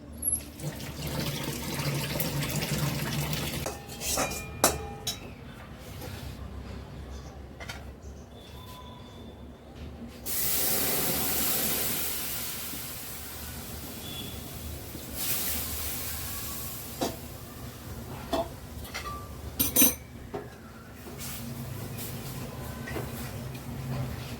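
Chopped vegetables are washed under a running kitchen tap, with water streaming and splashing steadily into a sink alongside clattering and sloshing from handling, close up and sustained.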